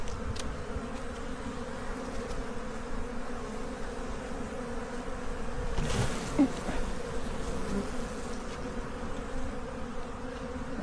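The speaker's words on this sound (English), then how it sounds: "I think this is a busy hive." Honeybees in a busy backyard hive give off a dense, continuous buzzing drone up close, with single bees flying past in louder swells.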